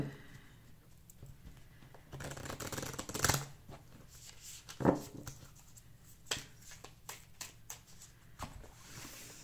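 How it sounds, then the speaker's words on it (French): Tarot cards being shuffled and drawn for a reading, a run of soft papery riffles and slaps with several sharper card snaps, close and quiet with no voices. "Donc pareil, je tire 5 cartes."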